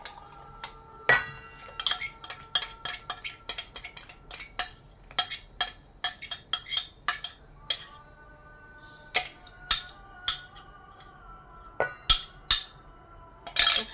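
Bread dough ingredients of flour, butter, yeast and milk are mixed in a bowl, giving a long run of sharp, separate clinks and taps from the utensil striking the bowl, some quick and some spaced out.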